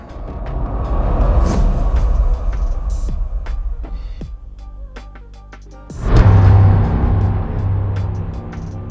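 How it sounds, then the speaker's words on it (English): Cinematic movie-trailer sound effect, a fierce hit: a deep rumbling swell fading into quieter tones, then a sudden loud booming impact around the sixth second that rings out in a low resonant tail. "Yeah, nice movie trailer sound there."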